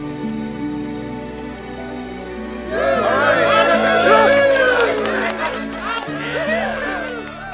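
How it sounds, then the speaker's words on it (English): A video game crowd cheers during a Shrek Extra Large cutscene on GameCube, a loud swell of audience cheering and whistling rising midway over steady game music, then fading. "That's all I get is a cheer from the audience"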